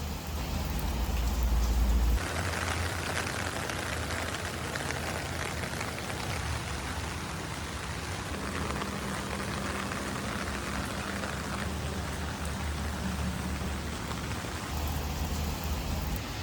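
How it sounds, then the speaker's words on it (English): Steady rain pelting a backpacking tent, the REI Trail Hut 2, during a waterproofing test, a dense continuous hiss of drops on fabric heard close up, with a low rumble at the start and end. "let's get into the rain test"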